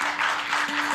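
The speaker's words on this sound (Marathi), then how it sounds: "एकदा साहेबासाठी जोरदार टाळ्या वाजवा" Brief, steady, fairly loud burst of applause from a lecture-series audience in Washim, with a faint hum underneath.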